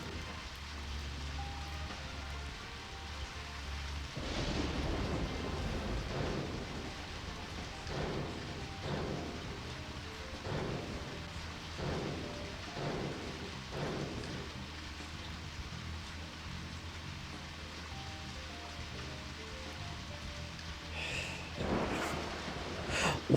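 Video game rainfall, steady, with several rumbling thunderclaps rolling in at intervals, moderately loud, with no voices.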